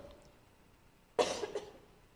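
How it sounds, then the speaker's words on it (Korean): A single short, sharp cough from a woman teaching a class on debate, close and fairly loud, with quiet room tone before it and a small trailing throat sound after. "숨이 좀 차면 그 다음부터 기침이 나와서요"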